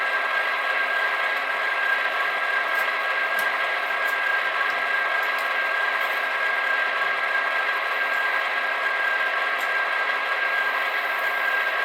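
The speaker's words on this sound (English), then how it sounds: "the prime mover is a little too loud" A small diesel engine sound from an HO-scale Walthers Mainline SD70M model locomotive's sound decoder drones steadily at close range, a constant mechanical prime mover hum with faint rattling ticks, playing alone throughout.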